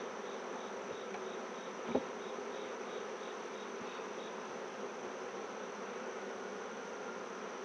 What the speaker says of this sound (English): Bunch of happy bees.